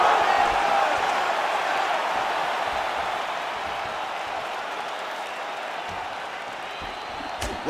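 A large arena crowd roars and cheers during a UFC 5 video game fight, a dense sustained wash of noise that slowly fades slightly, with commentary talk underneath.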